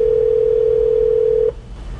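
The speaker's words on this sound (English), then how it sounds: "Calling Mark Shermer" A steady calling tone plays through a Ford Sync hands-free car phone system, one loud sustained note held for about a second and a half before it cuts off abruptly.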